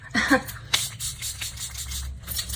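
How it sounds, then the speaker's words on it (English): Makeup setting spray misted onto a face and lips, heard as a few short soft hissing bursts close by, with no talking over them. "So I'm gonna spray my face, also the lips, so they set."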